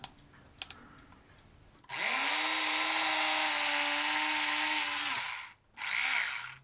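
A drill bores pilot holes in a model ship: after a quiet start with a couple of small clicks, a loud, steady high-pitched whine runs for about three seconds, stops briefly, then starts again for a short second burst.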